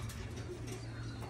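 Racing pigeons in a quarantine loft give a steady low cooing murmur, soft and continuous, with faint ticking in the background.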